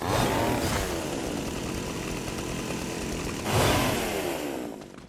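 A chainsaw in the Fortnite video game, a dense buzzing engine whine running steadily throughout and surging louder near the end, with no voices.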